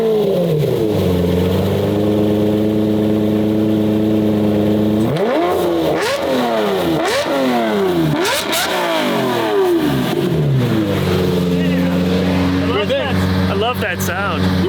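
A sports car engine, warm started, idles with a deep, steady hum, then revs hard several times in quick rising bursts before settling back to idle.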